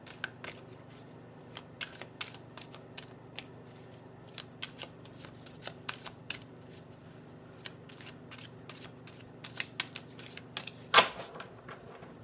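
Tarot cards being shuffled by hand, a long run of soft, quick riffling flicks and taps close up in a quiet room, ending with a sharper snap near the end.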